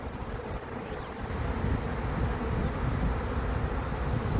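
Dense, steady buzzing hum of a honeybee swarm fanning at the front of a hive box, loud and continuous for the whole stretch with no voices.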